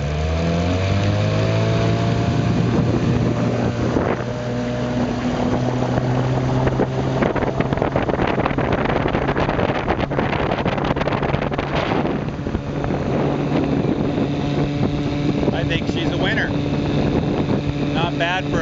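Small twin-hull boat driven by a 1968 Evinrude Sportwin outboard motor, running steadily and close by with a loud droning whine, with wind buffeting the microphone and splashing water.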